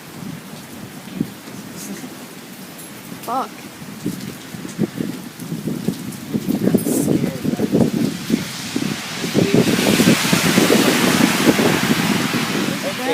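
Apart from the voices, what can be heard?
thunderstorm with rain and wind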